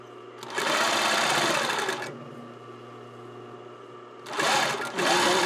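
Sewing machine stitching a garment's sleeve seam, loud close whirring bursts of rapid stitching separated by a pause of low motor hum, with no speech over it.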